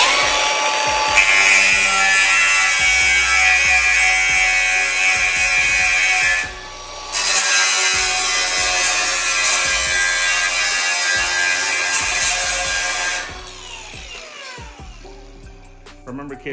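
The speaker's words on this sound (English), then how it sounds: "You're not supposed to use a cutoff wheel like this" A cutoff wheel is pressed flat against metal and used like a grinder, giving a loud, piercing, continuous whine. It breaks off briefly partway through, resumes, then winds down toward the end.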